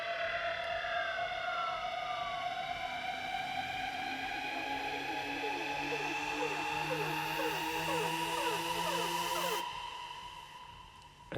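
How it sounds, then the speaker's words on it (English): Rising siren sound effect in a dance track building just before the drop, layered over steady synths and rhythmic elements, then cutting off abruptly near the end. "And then you have a siren just before the drop."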